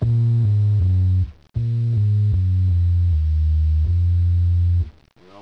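A smooth, synthetic bass line played on a Korg Triton steps through sustained low notes in a steady pattern, briefly cutting out once before continuing, with no voices.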